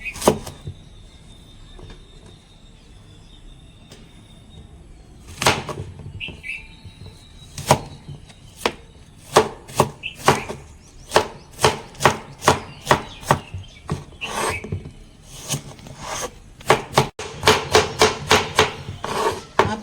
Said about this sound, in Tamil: ஆப்பிள் கட் பண்ணிக்கலாம்.